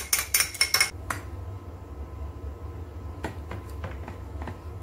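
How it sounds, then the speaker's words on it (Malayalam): A spoon or utensil clatters and clinks against a bowl while a mango sago dessert mixture with cream is stirred, starting with a quick burst of sharp, close knocks, then lighter scattered clinks over a low background hum. "നന്നായി ഇളക്കി കൊടുക്കുക"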